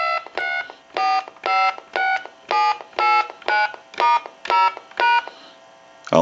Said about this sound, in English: We can go ahead and try the speakerphone option, and we'll dial our numbers.